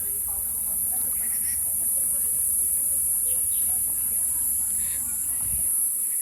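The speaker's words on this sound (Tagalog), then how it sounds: "huni ng mga insects. Naririnig nyo yun" Insects chirp in the forest of Yangmingshan National Park in Taiwan, a steady, high continuous buzz that holds level throughout over a soft outdoor background with faint talk.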